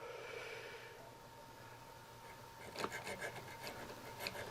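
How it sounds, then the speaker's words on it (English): A jeweler's saw cuts jewelry buttons, faint steady rasping at first, then a run of quicker, louder back-and-forth strokes near the end, close and alone. "I have to be extra careful with a saw because I don't want to leave saw marks"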